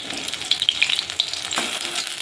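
Helencha greens pakoras fry in hot oil with a steady, close sizzle and crackle, a few brighter pops rising over the bubbling, with no voices.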